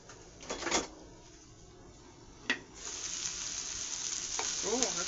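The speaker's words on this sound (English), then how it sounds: "Oh, look at the onions making a little noise over there." Onions sizzle and crackle in a frying pan in a home kitchen, a steady moderate hiss that builds through the clip, broken by a few sharper clatters and a brief splash of water near the start.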